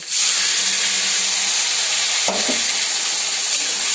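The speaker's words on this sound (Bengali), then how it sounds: "এবারে আমি আদা কাঁচা লঙ্কা ও টমেটো পেস্ট করে রেখেছি, এটা এবার আমি দিয়ে দেব।" Ginger, green chili and tomato paste being stirred into fried potatoes in a pan, a steady loud sizzle throughout with a brief clatter of the spoon against the pan partway through.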